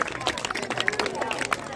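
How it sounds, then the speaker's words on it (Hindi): A crowd claps loudly and densely for a teacher at a 2024 farewell ceremony at a government senior secondary school in Ishwar Nagar, a close, continuous patter of many hands mixed with voices. "जोरदार तालियां हमारे रजनीश सर के लिए।"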